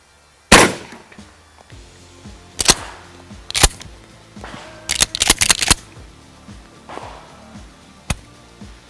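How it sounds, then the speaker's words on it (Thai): Gunshots from a gun firing rubber bullets at a banana tree outdoors: a loud sharp report, then single shots spaced a second or so apart, a quick burst of four or five, and one last isolated crack. "เอาเจ้าตัวกระสุนยางนะครับ ยิงเข้ามา ที่ต้นกล้วยนะครับ"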